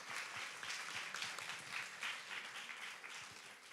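Audience applause at an eloquence contest final for a jury member, an actor and dubber from Lille; dense, fairly quiet clapping from a hall crowd, steady throughout, with no speech over it.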